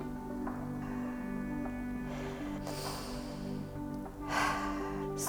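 During an energy exercise session, a person takes exaggerated, forceful breaths in two loud bursts over soft, steady background music.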